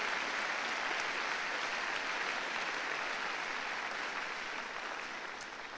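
Steady applause from an audience at a church service, a dense even clatter of clapping lasting several seconds before it begins to fade slightly.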